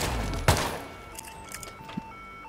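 One sharp gunshot in Hitman 2 cracks out over a steady background, followed by faint scattered clicks and a small distant pop.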